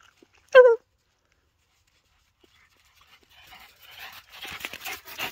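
A dog lets out one short, clear whimper up close, then the room goes quiet before soft panting, shuffling and small movement noises build toward the end.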